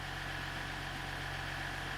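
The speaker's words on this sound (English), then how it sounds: "Okay, so engine is running." A 2018 Dodge Ram Laramie pickup engine idles steadily after starting, a constant low hum with even vibration and no voices.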